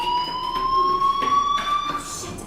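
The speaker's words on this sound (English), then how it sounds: "do you hear that fire alarm? That means you should be outside." A fire alarm rings in the video game Life is Strange, a loud, continuous electronic tone holding steady and close for the whole moment with no talk over it.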